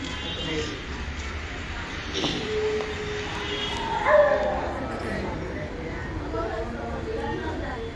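Dogs shut indoors bark and yelp in muffled bursts, heard through walls beneath people talking nearby, with a few whimpers between barks.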